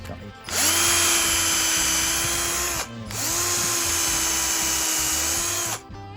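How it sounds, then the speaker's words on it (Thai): A Hory 198 V cordless drill whirs at a steady pitch in two long bursts, stopping briefly between them, close and loud. "สว่านไร้สายนะครับ"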